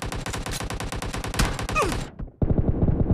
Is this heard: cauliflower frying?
no